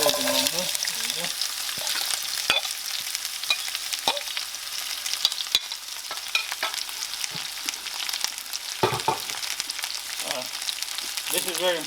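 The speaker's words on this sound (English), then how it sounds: "I'm gonna make fried onions, which I need to cook a little bit longer" Onions fry in a pan for an Indian egg biryani, giving a continuous close sizzle with scattered spatter pops and occasional stirring clicks and scrapes.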